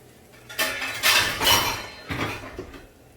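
A veg cheese omelette is flipped in a metal pan, making a few bright clanks and scraping clinks of a utensil against the pan in short bursts, close and fairly loud.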